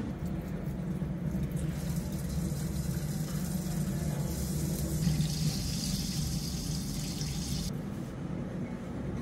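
Water poured from a tap into a rice cooker's inner pot holding rice, a steady rushing splash that runs continuously and shifts in tone as the pot fills, no voices.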